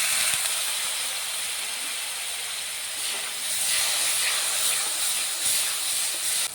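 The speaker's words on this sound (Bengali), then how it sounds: "সামান্য পরিমাণে আমি জল দিয়ে মশলাটাকে ভালো করে কষিয়ে নেব" Spice masala with turmeric fries with a little water in a pan, a loud continuous close hiss and sizzle that holds steady throughout without talk.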